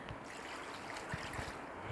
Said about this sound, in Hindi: 2 लीटर पानी डालकर आप इसे अच्छे से गला लें।